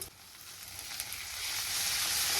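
Chopped tomatoes, with ginger, garlic and a coriander-coconut paste, hitting hot oil in a pan; a hiss of frying swells steadily louder after a brief clatter, nearby and without talk.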